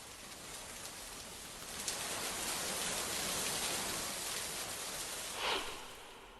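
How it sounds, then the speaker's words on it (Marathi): Heavy rain pouring down in Solapur, a dense steady hiss that keeps on throughout, fairly faint and even, with no voices. "सोलापूरला मुसळधार पावसानं झोडपून काढलंय"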